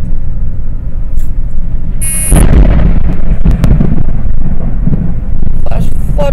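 Close lightning strikes bring a sharp crack followed by heavy rolling thunder that rumbles loudly for several seconds, with people talking around it.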